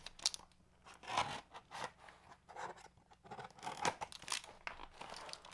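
Packing tape tearing and cardboard crinkling as a taped package box is pulled open, in a series of close, uneven rips and scrapes with short pauses between them.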